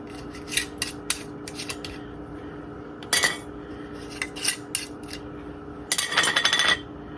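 Glass canning jars of chicken clink and rattle as they are lifted by their lids, a series of sharp close knocks and clatters in small bursts over a steady low hum, without talk.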